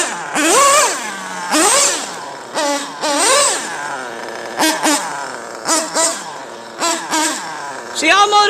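A Pico RC car motor fitted with a 16-tooth pinion is revved in about eight loud, close bursts, each sweeping up and dropping back, with short pauses between them.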